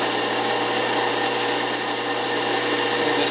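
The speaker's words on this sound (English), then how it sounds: "For the flat surface there, I like to use this soft sanding wheel." Continuous high-pitched whir of a soft sanding wheel grinding against a metal part of a Lionel model passenger car, loud and steady throughout with no pauses.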